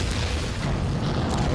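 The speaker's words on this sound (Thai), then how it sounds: "ระเบิด" A deep, rumbling explosion fills the whole clip in the PS4 action game Mad Max, loud and dense, with a steady roar and no speech over it.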